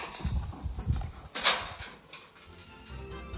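A flock of sheep, a small breed from a tiny French island, hurrying toward food in the Welsh countryside: a quiet patter and scuffle of hooves and movement close by, with a brief bleat-like sound.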